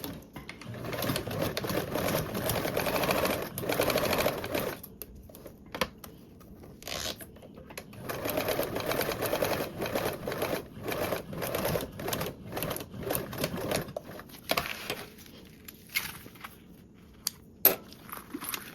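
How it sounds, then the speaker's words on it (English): A sewing machine runs in bursts while stitching a quarter-inch seam on a toiletry bag, with steady mechanical whirring broken by short pauses and faint clicks, close and fairly quiet. "Now we're gonna sew with a 1/4 seam allowance."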